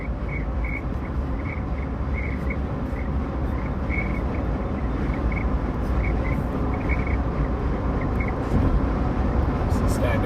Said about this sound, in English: That whistle is just this rental car.